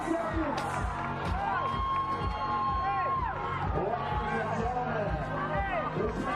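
A crowd cheers and shouts at the Wodapalooza fitness competition, a steady roar of voices with whoops and rhythmic thumps, loud and continuous throughout.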